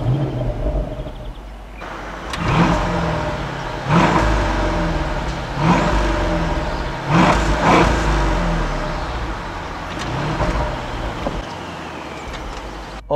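Engine of a 2017 Mercedes S500 AMG convertible revving and accelerating in repeated loud surges, each rise and fall clearly separated, heard close with no talk over it.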